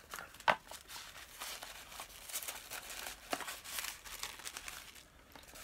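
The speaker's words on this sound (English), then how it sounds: "Pink tissue paper." Pink tissue paper from a beauty box crinkles and rustles close by in soft, continuous bursts, with one sharper crackle near the start and no talking.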